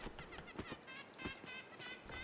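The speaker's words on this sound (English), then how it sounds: "The birds. You hear the birds?" Birds in the video game The Talos Principle II give repeated, faint, chirping and gobbling calls in short bursts with brief pauses between them.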